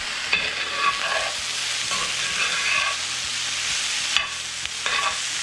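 Cajun trinity of chopped onion, celery and bell pepper with a little salt, frying in a pan with a steady close sizzle and occasional scraping stirs, no talking.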